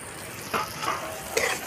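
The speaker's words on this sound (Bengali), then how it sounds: "পেঁয়াজটা একটু ভাজা হয়ে গেছে" Onions sizzle softly in a pan with a few quick scrapes of stirring, close and fairly quiet.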